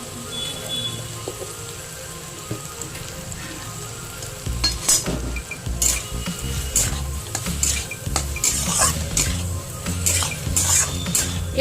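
Bottle gourd stirred with a utensil in a pan, sweetened with a little sugar: steady frying sizzle under repeated scraping and clinking strokes that grow busier and louder midway, with no talking.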